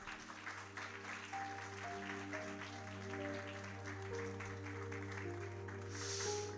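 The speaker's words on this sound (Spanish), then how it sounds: "Aplaude al Señor." A church congregation applauds during a sermon, soft, continuous clapping from a crowd over sustained keyboard or organ chords, distant and quiet.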